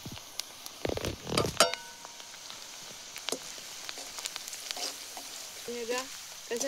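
Ginger-garlic paste spits and sizzles in hot oil in a pan beside browning onions, outdoors on a riverbank, with a steady frying hiss, a few sharp crackles and brief stirring clatter.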